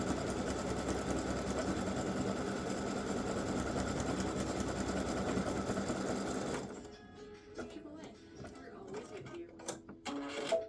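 An embroidery sewing machine stitches free-standing lace loops for pretzel earrings, a steady rapid mechanical whir and chatter for over six seconds before stopping, leaving faint clicks and light handling noises.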